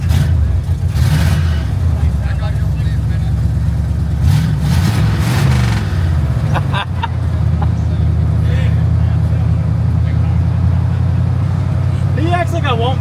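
Project Pontiac Firebird engine running loud and steady with a deep, rumbling lopey idle from a fat cam, swelling into revs early on, with voices talking over it.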